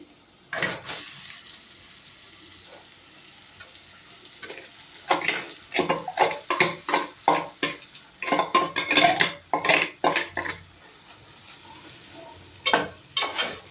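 A spoon scrapes and stirs smashed potato into a cooked spiced mixture in a pan, giving a run of close, rhythmic clinks and scrapes against the metal, loudest in the middle and tapering off.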